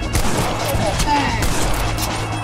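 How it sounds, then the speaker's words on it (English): Gunfire rings out in the zombie western game Undead Redemption, a quick burst of shots early on over steady game ambience, with a voice talking briefly. "Shot you in the foot."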